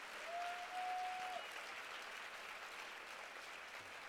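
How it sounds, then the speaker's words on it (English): Audience applause at a women's power lunch event, honoring Hillary Rodham Clinton: a steady, faint wash of clapping from a distant crowd, continuing without a break, with a brief sustained tone near the start. "I want everyone to give a round of applause to Hillary Rodham Clinton"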